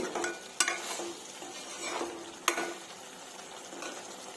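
Chicken cooks in a covered pan with a quiet, steady sizzle, marked by a couple of sharp clacks of metal and a soft stirring scrape in between.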